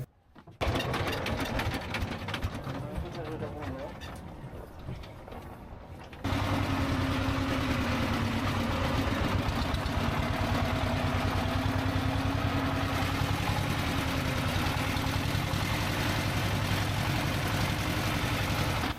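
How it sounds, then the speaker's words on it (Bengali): A tourist boat's engine runs loudly on the way to Sada Pathor at Bholaganj in Sylhet, a rapid, steady mechanical chugging that grows heavier and louder partway through and continues unbroken. "এই নৌকাগুলোতে কিন্তু আসলে অনেক শব্দ"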